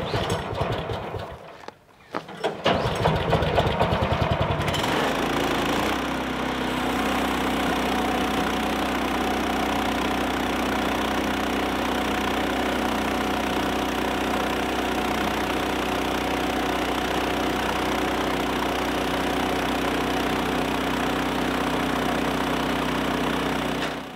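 A Woodland Mills HM130 sawmill cuts through a 4000-pound oak log, its engine settling after a rough few seconds into a loud, steady, unbroken drone. No one speaks over it.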